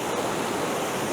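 Rushing water of a waterfall stream in Glencoe, a dense, constant broadband roar close by with no pauses or other sounds.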